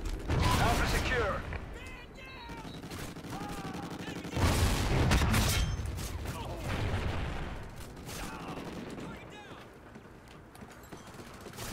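Rapid automatic gunfire from a Bizon in the shooter game Strikezone, loud bursts of fire recurring under steady talk and other game noise throughout.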